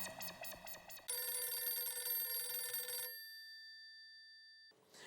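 A telephone bell rings in a household scene from a Hindi TV sitcom, one bright sustained ring lasting about two seconds and then fading out into silence, preceded by a brief musical sting.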